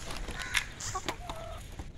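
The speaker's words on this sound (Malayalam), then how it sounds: "കാണുന്ന ചാരകൾ മുഴുവൻ നമ്മൾ കൊടുത്ത കോഴികളാണ്." Native country hens clucking on a farm in Kozhikode, several short clucks and calls, fairly close, over soft outdoor background noise.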